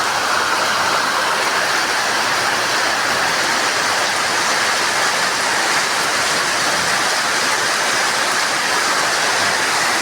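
Steady rain falling on an overcast afternoon in Kidapawan, a dense, continuous hiss that stays loud and even throughout with no voices.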